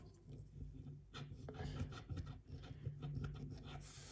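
A coin rasps across an FDJ lottery scratch card in steady back-and-forth strokes, close and soft, with a faint hum underneath and no talking.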